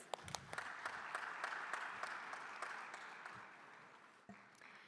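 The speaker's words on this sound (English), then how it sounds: "A round of applause for our speaker, Vinod Dugar, please." Audience applause for a panel speaker at a business panel discussion, moderate clapping that starts with a few sharp claps, holds steady and fades near the end, fairly distant and not loud.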